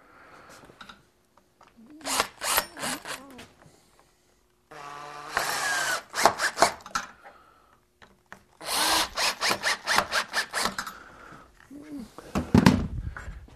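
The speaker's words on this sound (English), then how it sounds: "So let's screw this in. I'm going to bring it around. Take my screw gun right here." A screw gun drives screws into a wooden stop on a glass panel door build, several short whirring bursts separated by pauses, close and fairly loud, with some speech between runs.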